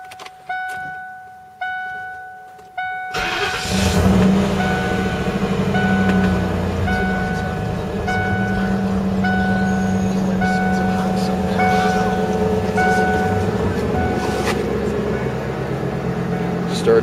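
A Lincoln Mark VIII, parked off the road all winter, sounds a few soft chime tones before it cranks and catches on a cold start. It then settles into a steady, close rumbling idle without revving.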